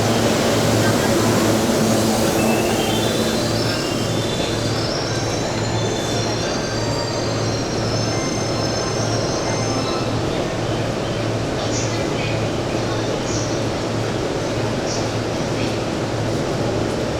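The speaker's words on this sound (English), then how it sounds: "Choo-choo." A train runs on rails in Japan, a loud continuous rumble with high squealing wheel tones rising and falling, sustained and close throughout.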